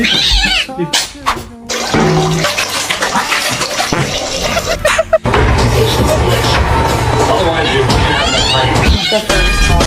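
A cat meowing in a busy indoor space, with intermittent cries standing out over near-constant background talk, clatter and music-like noise.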